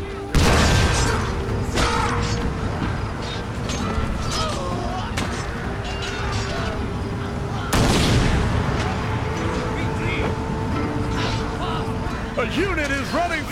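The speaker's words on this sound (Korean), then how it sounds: "야 대포를 어디다 쏘는 거야 지금" Cannon artillery booms in a Total War: Shogun 2 battle between gatling guns, wooden cannons and spear conscripts, with two sharp, loud blasts and scattered crackling gunfire over a steady rumble of battle.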